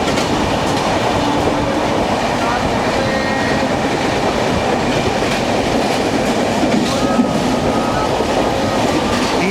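Train running from Mumbai to Pune through the rain-drenched Bhor Ghat, a steady close rumble with rhythmic wheel clatter on the rails and occasional faint squeals, continuous throughout.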